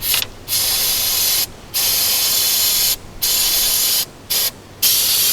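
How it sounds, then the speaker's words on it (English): An aerosol can of brake cleaner degreaser sprays in loud hissing bursts on a 1995 Subaru engine, about five of them of varying length, separated by short pauses. "I'm going to use my degreaser, my brake cleaner"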